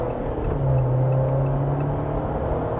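A 2025 Jeep Wrangler Rubicon X on thick, heavy-tread tires accelerates along a road at about half throttle, heard from inside: a steady engine drone rising slightly in pitch over constant road rumble, with no talk.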